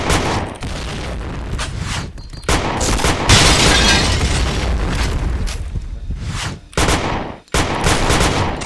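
Grenade blasts and rapid gunfire from a shooter video game, forming a dense, loud, continuous barrage of booms and shots with brief gaps near the end.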